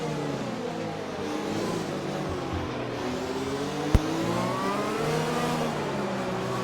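Formula 1 cars in a racing game at the Vietnam Grand Prix, including a Renault and a McLaren, engines whining and rising and falling in pitch as they shift through gears, with one sharp click midway and no voices.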